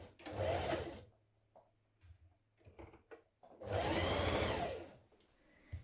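A sewing machine stitches a seam on a fitted Butterick 6850 dress with a 1.5 centimetre seam allowance. Two close, steady bursts of whirring run with a short pause between them and no talking.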